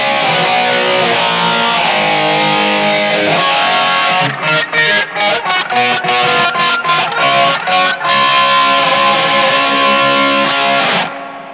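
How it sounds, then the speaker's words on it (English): Distorted electric guitar through a DiMarzio Super Distortion humbucker, sustained crunchy chords giving way to a burst of choppy staccato notes, then ringing out loud and alone. "this is playing with my DiMarzio Super Distortion humbucker"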